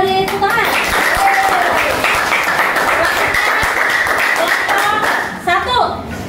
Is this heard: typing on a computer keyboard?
no